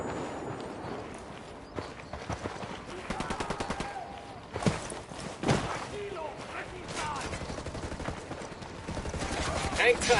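Gunfire in Tom Clancy's Ghost Recon Wildlands, with rapid machine-gun bursts and single shots in fast rhythmic clusters, loud and close, mixed with other game sounds and occasional voices.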